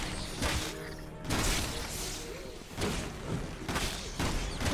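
Gunfire in the Resident Evil 6 video game: several sharp, booming shots spaced irregularly over a few seconds, close and punchy against a noisy background.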